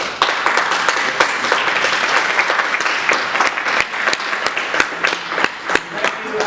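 Applause rises from a seated audience at a gathering to congratulate a man. The clapping is steady and full, then loosens into scattered individual claps near the end.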